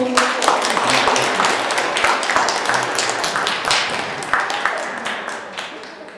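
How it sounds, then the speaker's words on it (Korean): An audience at a literary festival book talk claps to welcome a poet, a loose patter of hand claps of moderate size, with some voices heard under it. "박옥매 시인님 자리에 오시겠습니다. 박수로"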